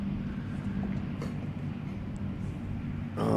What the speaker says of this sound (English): Oh, the sound of the train going by.